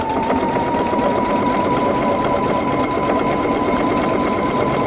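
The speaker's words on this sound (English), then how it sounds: "And now I'm going to start stitching that satin ball." A Pfaff Creative Icon sewing machine stitches a decorative satin stitch with a steady, loud, close mechanical whir and fast needle rhythm, running without a break and with no talking.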